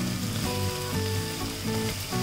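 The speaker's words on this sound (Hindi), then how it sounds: "अब इसमें डालेंगे प्याज, ये भी हमने 4 बड़े प्याज बारीक काट लिए हैं, इसको भी ब्राउन कर लेंगे" Four large finely chopped onions fry and brown in a pan, giving a loud, close, steady sizzle with faint stirring and no talking.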